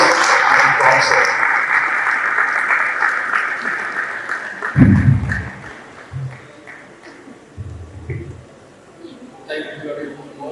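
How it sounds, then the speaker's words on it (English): Audience applause at a university faculty guest lecture, a sustained wash of clapping through the first half that fades as a voice starts speaking nearby, with some bumps and handling noise. "A round of applause and concert"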